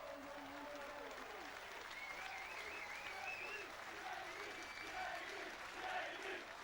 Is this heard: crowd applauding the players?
yes